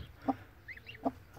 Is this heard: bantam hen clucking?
yes